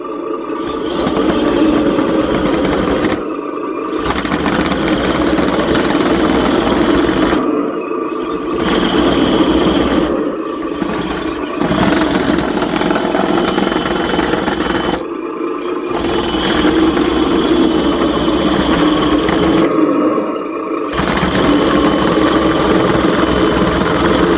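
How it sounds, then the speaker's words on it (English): Engine sound effects from a sound module in an RC Bruder D11 bulldozer conversion, a steady synthetic diesel rumble playing loud and close for over twenty seconds, broken by several brief dropouts where the sound cuts out and restarts. "If you tap forward on the stick, then your motor sounds start up."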